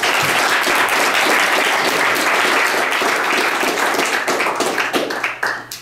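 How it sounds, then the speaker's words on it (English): Sustained, loud applause from a meeting audience welcoming a guest speaker, dense clapping that holds steady before thinning and tapering off at the end. "let's give a warm round of applause for our guest speaker"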